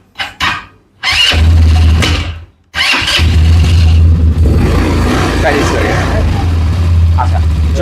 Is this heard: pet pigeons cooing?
no